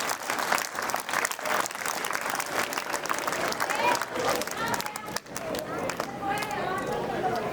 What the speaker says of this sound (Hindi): एक बार जोरदार तालियां बजाकर हमारे अतिथियों का स्वागत करिए आप।